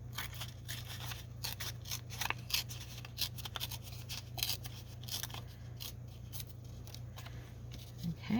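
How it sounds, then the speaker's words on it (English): Scissors snipping paper to make pocket tags from a 6x6 paper pad, a run of quick close crisp cuts in an irregular rhythm over a steady low hum. "I'm going to cut one piece a little bit taller."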